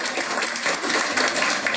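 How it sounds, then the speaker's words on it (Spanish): Audience applause for the finalists of a school contest, a dense steady wash of many hands clapping at moderate loudness throughout, with no break. "Un aplauso para todos ellos, porque ustedes ya son ganadores."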